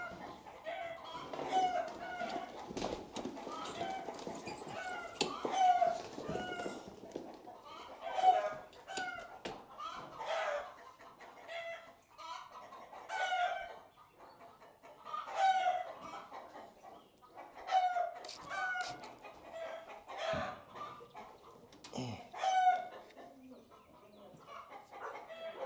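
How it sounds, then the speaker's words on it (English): Chickens cluck and roosters crow repeatedly across the clip, a busy farmyard flock with crows rising every few seconds over steady clucking, fairly close and loud, with no talk. "There y'all's chickens go again with all of the unnecessary noise."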